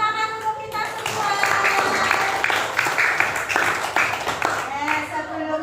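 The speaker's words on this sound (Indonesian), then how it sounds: "Tepuk tangan untuk kita semua." A school class applauding after singing the national song Garuda Pancasila, a steady burst of many hands clapping for several seconds, mixed with children's voices and chatter.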